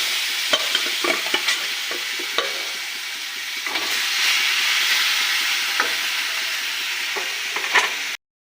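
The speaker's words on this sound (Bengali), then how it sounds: "আবার ভেজে নেব" Steady oil sizzle of chicken pieces frying in a pan, with occasional crackles and scraping clinks from a utensil; no voices.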